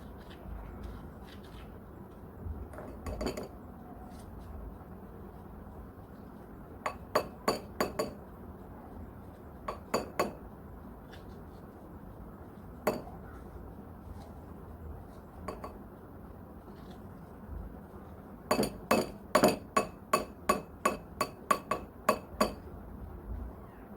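A spoon scoops shea butter from a container, giving scattered bright clinks and taps against the jar between quiet stretches, with a quick cluster of clinks near the end.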